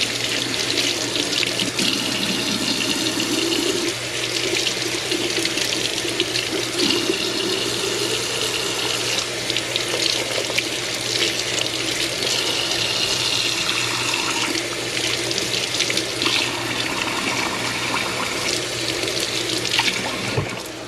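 Tap water pours steadily into a kitchen sink while vegetables are rinsed, a continuous close splashing rush with shifting gurgles and no talk throughout.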